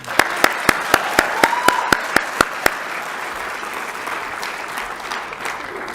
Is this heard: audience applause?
yes